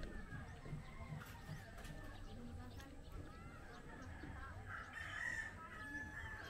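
Backyard chickens cluck and a rooster crows faintly at a distance, with a louder crow near the end, under quiet conversation in the background.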